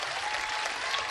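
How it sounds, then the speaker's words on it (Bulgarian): A studio audience breaks into dense, continuous applause, loud and even from start to finish. "Аплодисменти, дами и господа!"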